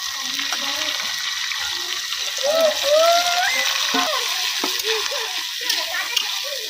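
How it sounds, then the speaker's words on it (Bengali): Onions and tomatoes frying together in spiced oil in a village kitchen, a steady sizzle and hiss under stirring, with a voice and other sounds over it. "পেঁয়াজ এবং টমেটো একসাথে দিয়ে দিচ্ছি"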